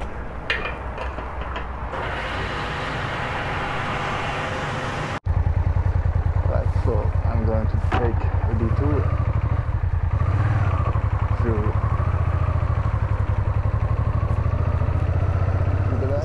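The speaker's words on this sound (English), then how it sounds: "You can't hear the microphone because of the engine sound and the wind." Motorcycle engine drones steadily while riding, loud and continuous, mixed with buffeting wind noise; a voice talks faintly under the noise early on before the engine roar takes over.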